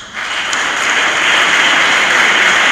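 Sustained applause from a crowd at a Christmas concert, a dense steady patter of clapping that swells quickly and holds at a loud, even level.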